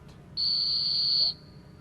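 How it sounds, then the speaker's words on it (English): A dog handler at a retriever championship field trial blows one sharp, piercing whistle blast of about one second, loud and steady against quiet outdoor background noise. "That was a great whistle on the downwind side."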